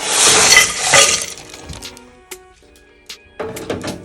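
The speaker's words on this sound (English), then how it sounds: "All right, so I'm gonna dump everything in my pot." Dry mauby drink ingredients, including bark pieces and star anise, are dumped into a pot, giving a loud clattering rattle at first, then scattered clinks and taps against the pot as it settles.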